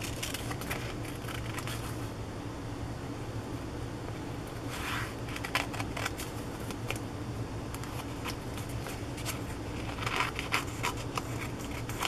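Small scissors snip through vintage 1940s magazine paper, with a few faint, quiet cuts and rustles spaced out over a soft background hiss.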